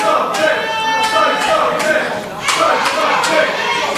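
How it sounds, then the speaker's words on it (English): Wrestling crowd at an indie pro-wrestling show booing and jeering a heel act, a steady mass of voices with swelling bursts of disapproval throughout. "Crowd certainly showing their disdain for Stife, the Enterprise."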